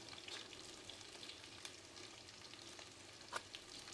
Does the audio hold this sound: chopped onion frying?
yes